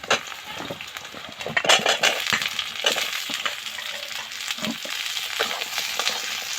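Potatoes frying in oil in a pan after onions and cumin, cooked for a fish curry. A steady sizzle mixes with scraping and stirring clatter, and there are no voices.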